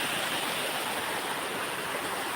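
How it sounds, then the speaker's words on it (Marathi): Steady rushing water, like rain pouring and water running in a stream, fills the whole stretch as an even, continuous broadband wash with no voices. "पाऊस"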